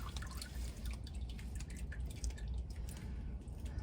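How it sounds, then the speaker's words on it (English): Old engine oil draining from a car during an oil change, with steady dripping and trickling liquid over a low background hum, close and fairly quiet. "So we'll let that drain."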